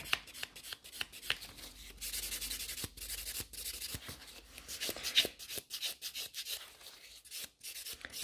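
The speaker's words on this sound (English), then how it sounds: "So I'm using a 100-180 grit buffer, and it's a pretty sharp buffer, so it creates enough scratches for a gel polish to stick into that" A 100-180 grit buffer sands a gel nail in quick, light, scratchy strokes. The strokes are close and soft, come in uneven bursts with brief pauses between them, and no one speaks.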